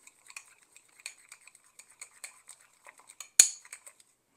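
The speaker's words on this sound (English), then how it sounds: "Mix this all up." A spoon clicks and scrapes against a bowl while mayonnaise and relish are stirred together, with light irregular taps and one sharper clack near the end. The sound is close and quiet, with no talking.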